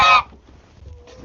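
A goose honks loudly and close once at the start, then fades into quieter barnyard background with a faint call at the end, on a small flock farm with chickens nearby.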